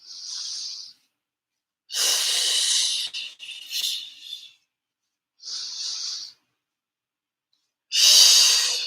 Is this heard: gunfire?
no